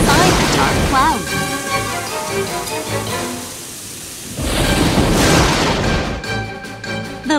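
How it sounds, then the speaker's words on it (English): Cartoon thunder from lightning in dark clouds comes in two loud, rolling booms with rain-like hiss between them, close and dominant, separated by a brief quieter lull. "There was lightning inside the dark clouds."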